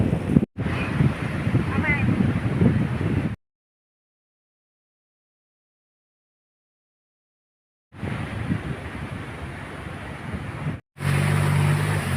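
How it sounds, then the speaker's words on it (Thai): Strong, cold wind buffeting the microphone outdoors at a resort area in Wang Takhrai, Nakhon Nayok, a steady loud roar in two stretches separated by a silent gap. "ลมแรงมาก หนาวมาก"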